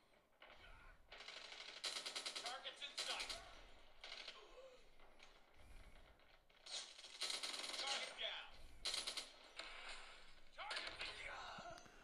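Gunfire in a mobile shooting game played on a Nothing Phone 2 sounds in quick bursts of rapid shots, fairly faint and repeated through the clip, with a voice talking in between.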